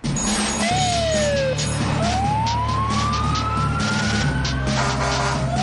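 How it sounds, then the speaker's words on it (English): A fire engine siren at the Sutphen Corporation plant in Central Ohio sweeps down, then rises in a long wail over a loud, steady engine rumble, close and continuous. "The fire engine."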